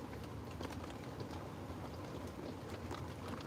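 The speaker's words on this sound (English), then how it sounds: "I'm home in the camper van and it's raining." Rain falling on a camper van roof, a steady dense patter of fine drops tapping overhead, constant and close, with no talk.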